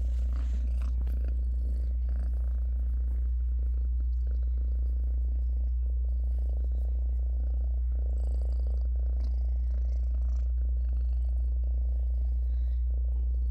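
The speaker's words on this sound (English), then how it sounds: "Big purrs." A low, steady purr from a cat held close, continuous and soft with a constant hum underneath, no voices.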